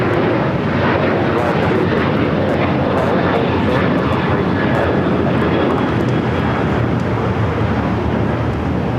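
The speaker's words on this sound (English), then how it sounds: "That was United Airlines heading to Houston, flight 1012, 737-900 ER." A United Airlines Boeing 737-900ER departs LAX bound for Houston, its jet engines a loud, steady roar holding close and constant throughout.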